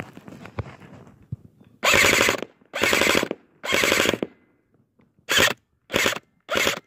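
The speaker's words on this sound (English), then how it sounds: "It's just an airsoft gun." An airsoft gun fires on full auto in six loud, close bursts, three longer ones and then three shorter ones, each separated by quiet gaps.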